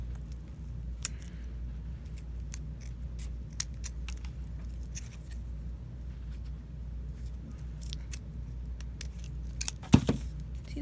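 Scissors snip the edges of a paper dagger, giving a series of short, crisp, irregularly spaced cuts close by over a steady low background hum, with one louder clatter near the end.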